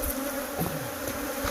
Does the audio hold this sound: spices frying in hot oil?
no